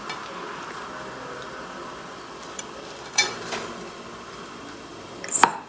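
A knife cuts through a crispy spicy potato sandwich, giving a few crunchy crackles and a louder crisp snap near the end over a quiet background hiss.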